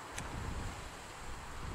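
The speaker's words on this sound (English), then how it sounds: "It's very windy today." Strong wind blows outdoors while a recurve bow is being set up, making a steady low buffeting rumble and broadband rush against the microphone that persists throughout without a break.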